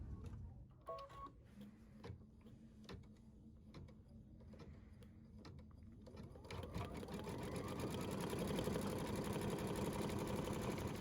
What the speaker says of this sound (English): thread the matte thread and embroider the letters